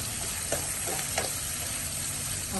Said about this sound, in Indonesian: Kita goreng dulu ebinya agar tidak kelihatan kering